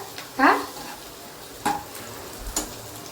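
Onions sautéing in a home kitchen pan as a girl cooks, with a few separate scraping stirs of a utensil against the pan over a faint, steady sizzle.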